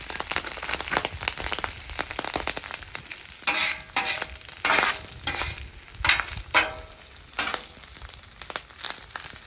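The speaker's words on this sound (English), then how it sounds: "Be careful, as you can see that the rice is popping." Rice frying in a good amount of butter on a hot griddle sizzles steadily, with sharp popping bursts and scraping stir sounds breaking through at irregular intervals, close and fairly quiet.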